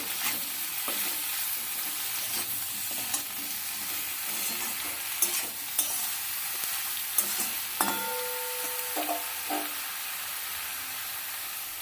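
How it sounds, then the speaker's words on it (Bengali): Potato and eggplant pieces fry and are stirred in a pan, with a continuous hissing sizzle, scattered spatula scrapes and a few sharp metallic clinks toward the end, with no talking. "আলু বেগুনটা এবার ভালো করে নাড়িয়ে দিয়ে ভেজে নেব"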